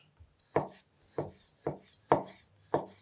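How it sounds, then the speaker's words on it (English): A knife cuts yellow-orange tomatoes in half one at a time for a watermelon feta salad, five crisp slicing strokes landing at an even, unhurried rhythm close by. "So we're gonna slice these one at a time and just cut them right in half."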